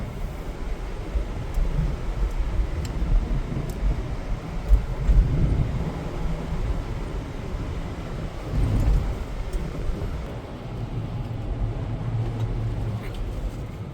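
Lexus GX460 SUV crawling along a muddy canal in crawl control, a low continuous engine and drivetrain rumble with sloshing mud and water, steady and close throughout with occasional bumps.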